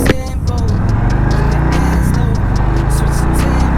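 A 2021 Harley-Davidson Street Bob with the 114 engine runs close by, a loud, steady low throbbing rumble that holds even throughout.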